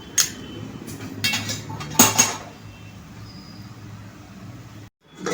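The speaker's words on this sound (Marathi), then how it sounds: "आता मी ह्याच्यावर झाकण ठेवणार आहे" A metal lid set onto a pan of radish bhaji cooking on low flame: several close clanks and clinks of pot and lid, a louder rattle in the middle, then a quiet hiss of steady background.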